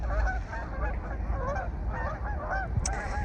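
Loud, close honking quacks from a group of ducks, overlapping in quick bursts with no pauses.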